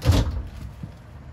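A storage drawer or door on a 2021 Forest River Flagstaff Super Lite 26FKBS travel trailer closes with a single solid thump, followed by a faint knock and quiet room tone.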